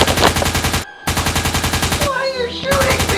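Nerf guns shooting foam darts in a rapid, loud, continuous burst that breaks off briefly, then resumes while a voice shouts over it.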